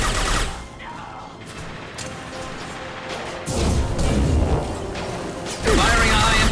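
A high-impact gunshot fires during a firefight in the game Mass Effect 2, with heavy bursts and booms under sustained combat noise and voices speaking through it.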